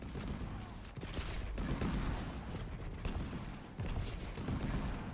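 Railgun fire in the arena shooter Quake during a competitive match: loud, crackling blasts and weapon noise come in bursts over a dense wash of game sound.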